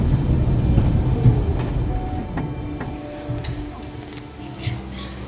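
A Mail Rail underground postal train under Mount Pleasant sorting office in London rumbles along steadily, loud and close, with metallic clatter and faint squeals over a continuous low roar.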